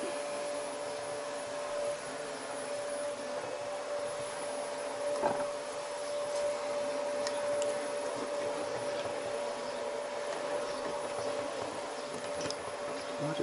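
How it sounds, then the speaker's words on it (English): A vacuum cleaner hoovering somewhere nearby gives off a steady, droning whine that holds level for the whole stretch, with a few faint clicks and knocks on top. "Somebody's hoovering up."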